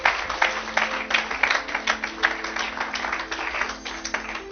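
A church congregation at a Sunday service claps in a quick, uneven rhythm. The applause is steady and moderately loud from start to finish, with a low voice or hum faintly underneath.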